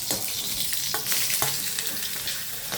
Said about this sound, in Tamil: நல்லா க கடுகு பொறிஞ்ச உடனே வாழைத்தண்டு போட்டுருவோம்